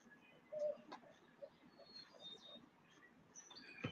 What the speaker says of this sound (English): Those are my barred owls.